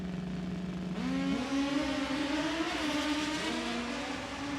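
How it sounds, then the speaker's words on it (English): Drag racing motorcycles revving hard with a rising, steady drone, close and loud, accelerating down the strip at a drag raceway. "listen to those motorcycles singing a tune down there"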